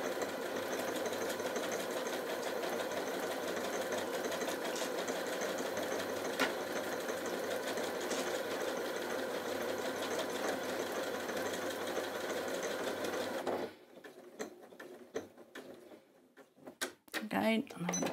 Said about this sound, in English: it's coming through so you can see the stitch it's sewing now